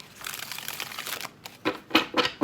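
Tarot cards being shuffled by hand, a dense papery riffle and crinkle for over a second, then a pause and three short, crisp bursts of card flicking, close and fairly quiet with no voices.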